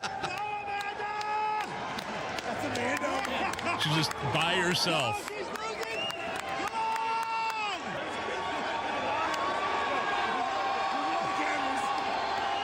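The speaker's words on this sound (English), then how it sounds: "Here's the audio of people cheering her on" Arena crowd at a Shane Gillis comedy show in Philadelphia, a dense roar of cheering and whooping that swells and fades, with voices talking close over the top throughout.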